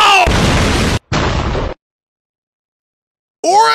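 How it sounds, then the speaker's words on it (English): A meme's car explosion effect: a loud blast with a crackling, rumbling burst, cut short and followed by a second burst, then silence before another sound starts. "Or a Tesla exploding."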